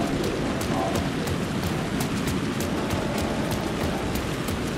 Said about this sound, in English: It's just pissing rain.